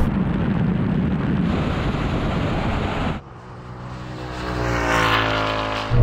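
A BMW 3.0 CSL and a Ford Mustang V8 drag racing to the half mile, heard as a loud, steady engine roar that drops suddenly, then builds again into a rising engine note.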